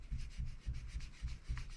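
A kneaded eraser rubs back and forth on pencil-drawn paper, six rhythmic soft scrubbing strokes in quick succession, close and steady.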